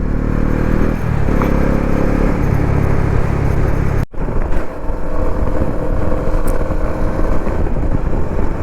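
A motorcycle is ridden along a road on a group ride, its engine droning loud and close with rushing wind noise, a brief dropout midway, then steady riding again.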